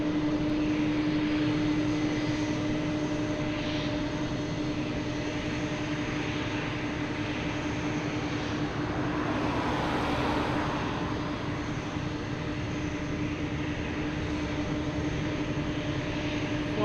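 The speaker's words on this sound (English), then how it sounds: "So I think this is going to be loud. 767." A Boeing 767 airliner rumbles as a steady, continuous roar at Lisbon Airport, the drone holding an even level throughout with no voices.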